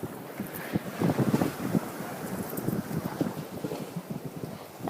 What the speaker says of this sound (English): Wind's behind us.